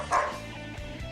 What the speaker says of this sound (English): looking forward to my dog not barking during the radio